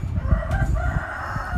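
Chickens and a rooster crowd close around someone outdoors on a hot day, with steady overlapping clucks and crowing calls that fill the short stretch without pause.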